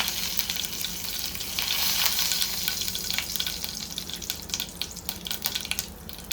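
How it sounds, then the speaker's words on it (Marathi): Curry leaves crackling in hot oil with asafoetida on low heat, a steady close sizzle with bright spitting bursts throughout. "आता हा कढीपत्ता घालायचा."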